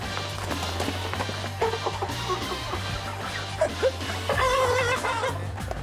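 At a Korean army artillery brigade camp, a rooster crows with a wavering call near the end, over a constant low hum and busy background sound.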